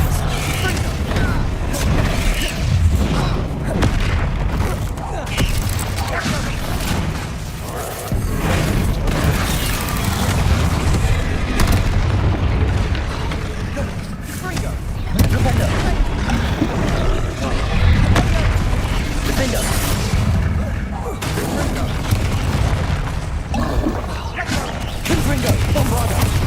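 Confringo and Bombarda spell explosions in the Hogwarts Legacy video game, repeated heavy booms and rumbling impacts within a dense, continuous battle soundscape, with voices shouting over the action.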